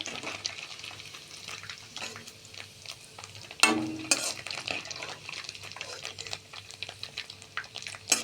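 Paneer fries lightly in a pan with soft sizzling, broken by stirring and the scrape and clink of a utensil against the pan, including one sharp clatter partway through.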